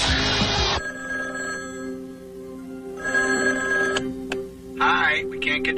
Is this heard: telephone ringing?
yes